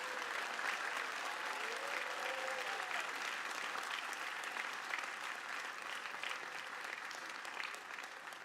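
Sustained applause from a large commencement crowd greeting reunion class members at Morehouse College's 2022 ceremony, steady and dense throughout, with a faint voice briefly rising over the clapping.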